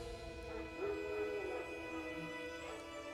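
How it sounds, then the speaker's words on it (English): Wild dogs in The Witcher 3 Next Gen with ray tracing give short yips and whimpering barks over a steady bed of game ambience and music, fairly faint and brief. "Wild dogs. Yes. More dangerous than wolves."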